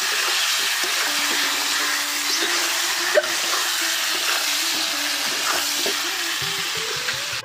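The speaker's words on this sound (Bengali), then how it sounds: "আর এখন এই যে লাস্ট রান্না আমার মাছের ঝোল হচ্ছে।" Fish curry simmers and sizzles in a pot on a wood-fired clay stove, a steady bubbling hiss with occasional small crackles and clinks.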